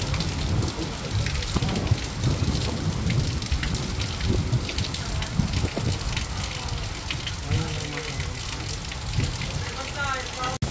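Heavy rain pours steadily and loudly from a typhoon, with low rumbling underneath and people talking over the downpour near floodwater.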